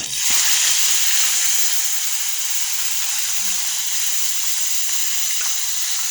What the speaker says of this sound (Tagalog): Prito tayo guys, tilapia.